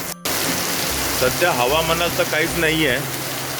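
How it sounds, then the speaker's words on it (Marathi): Heavy rain pours during Cyclone Tauktae as a steady, dense hiss that fills the background while a person speaks briefly over it. "तुम्ही पाहू शकता आपल्या बॅकग्राऊंडमध्ये की कसा पाठीमागे की कसा आपला पाऊस पडतोय जोरदार"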